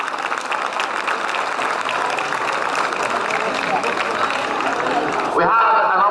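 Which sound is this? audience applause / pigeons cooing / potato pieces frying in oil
audience applause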